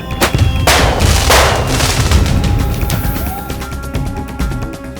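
Several loud bangs of fireworks go off close by in a village at night, set off to scare away elephants, sharp blasts with rattling crackle trailing between them, then a scatter of smaller pops.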